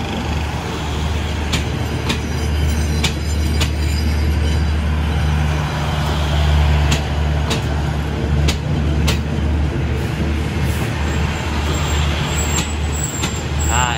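Special express train No. 37 arrives at Surat Thani station, a loud, steady low rumble of rolling carriages with sharp metallic clanks and squeals scattered throughout, heard close without talk.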